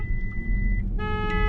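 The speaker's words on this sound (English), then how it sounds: "It's beeping." A Volkswagen ID.4 First Edition sounds its emergency assist warning, a steady electronic beeping tone that starts partway through, over low road rumble from a car braking hard to a stop with hazards on.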